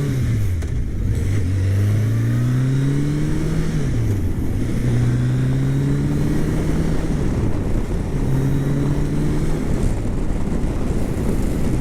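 A Kawasaki Concours ZG1000 sport-tourer accelerating hard from onboard, the engine note rising through several gears with brief dips at each shift, loud and steady over wind roar.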